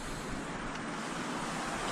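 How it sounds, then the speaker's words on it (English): Steady wind roars and rushes at a frozen winter hammock camp under a full moon, a constant broadband blowing with no pauses and no voices. "It's cold and windy."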